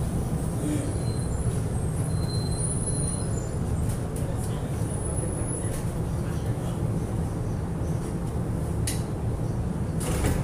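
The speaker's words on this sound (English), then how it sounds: "The train is approaching." Low rumbling of a Miami Downtown Metromover train running, steady mechanical drone with occasional metallic clicks and squeals, and some voices murmuring nearby.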